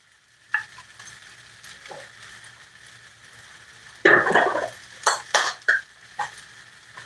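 Shrimp frying for shrimp fried rice, with a steady sizzle in the pan and a louder burst of stirring and scraping partway through, followed by several short clanks of the utensil against the pan.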